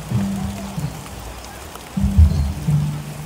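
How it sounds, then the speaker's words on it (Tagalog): Heavy rain pours down in a steady broadband hiss, with low rumbling thumps rising and falling beneath it. No voices are heard over the downpour. "Lakas ng ulan."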